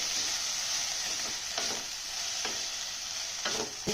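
Onion, tomato and green chili frying over medium heat for goat leg soup, a loud steady hiss of sizzling with repeated scrapes of stirring, with no talking.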